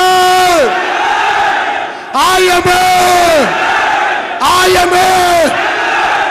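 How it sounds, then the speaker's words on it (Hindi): A seminar crowd shouts a commitment together in three loud, unified bursts, each a long held chorus of voices separated by brief pauses. "चिल्ला के 3 बार हम अपने आप से कमिटमेंट करेंगे"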